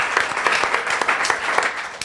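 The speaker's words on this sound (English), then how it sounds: "let's give Finlay a round of applause" A small live audience claps for a guest joining a show, brisk, fairly close applause with distinct individual claps in a steady patter, no talking over it.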